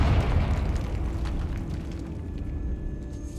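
A Confringo fire spell blasts in Hogwarts Legacy with a loud, rumbling explosion, a dense low boom that starts at full force and slowly fades over a few seconds.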